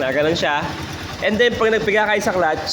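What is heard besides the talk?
None of the usual background noises is heard.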